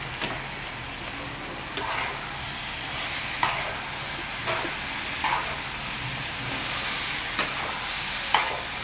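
Cooked rice is stirred and fried in a hot pan for Schezwan fried rice, with a steady sizzle under repeated scraping and clanking of a spoon against the pan at irregular intervals, no voices.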